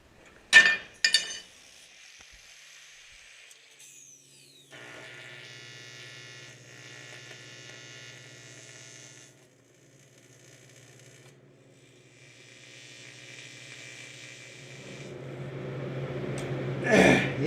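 A TIG welder buzzes in steady stretches as it tacks an aluminium intercooler, with sharp metallic clinks at the start and end and a faint hum between bursts.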